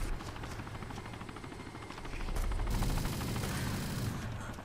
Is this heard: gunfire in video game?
yes